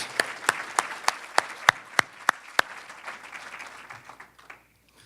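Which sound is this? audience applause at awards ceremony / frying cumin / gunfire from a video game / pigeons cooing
audience applause at awards ceremony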